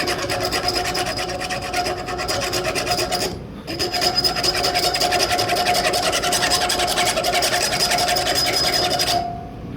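A Victorinox Ranger pocket knife's small saw blade rasps steadily back and forth through wood, close and loud, with a brief break partway before the continuous sawing resumes.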